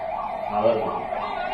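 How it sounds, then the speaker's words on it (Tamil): Ambulance siren wailing steadily at a political rally crowd, a rising and falling tone repeating in regular cycles, moderately loud and continuous. "ஆம்புலன்ஸ் வர்றதுக்கு நம்ம கட்சியினர் வழிவிடுமாறு அன்போடு கேட்டுக்கொள்கிறோம்"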